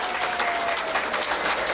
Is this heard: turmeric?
no